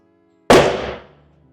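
A single sharp gunshot from a Smith & Wesson M&P 2.0 Metal pistol firing 124-grain ammunition, a loud close crack at the start that rings out and decays over about a second, with no talking.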